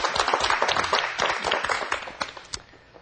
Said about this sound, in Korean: 수고하셨습니다. 박수.